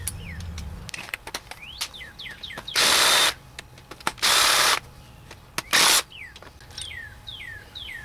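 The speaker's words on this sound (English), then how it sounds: "you'll need to take an 8mm socket to remove the rocker arms" Power tool with an 8mm socket loosening rocker arm bolts on a 7.3L PowerStroke diesel: three loud, sustained whirring bursts of a couple of seconds each, with rattling clicks and outdoor bird chirps between them.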